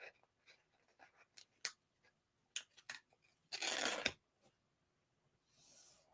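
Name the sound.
peeling back a paper center piece while scrapbooking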